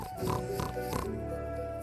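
A pig oinks in a few short, nasal grunts, moderately close, against a busy steady background hum.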